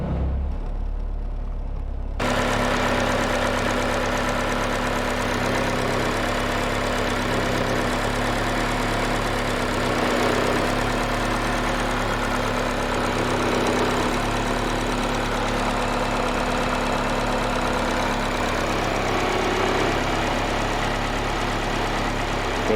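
A Honda K24 engine idles steadily and close, running on an older two-pin idle air control valve from a Honda BND, a constant low hum with a faint rhythmic knock that holds throughout.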